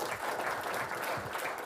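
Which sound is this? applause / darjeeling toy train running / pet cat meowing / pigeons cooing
applause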